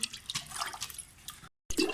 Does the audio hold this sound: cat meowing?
no